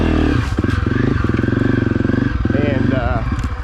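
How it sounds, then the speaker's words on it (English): A Honda CRF250F dirt bike engine idles on stock settings, with a steady, close, throbbing putter that holds an even rhythm throughout. "As far as our idle, that was great, no issues, just as you hear it now."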